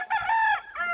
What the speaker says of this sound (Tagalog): Sa mga mahilig po dyan sa stag, maraming available dito sa Tres Marias Game Farm po.